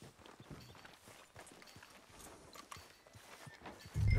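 Horse hooves clip-clopping in the Red Dead Redemption 2 video game, a steady run of soft, fairly close hoofbeats on a street with a louder thump at the end.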